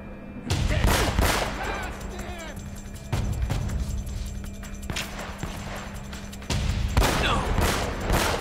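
Scattered gunfire from the video game Uncharted: Drake's Fortune, sharp shots bursting irregularly over a steady background hum with a few louder cracks, while a voice talks over the action.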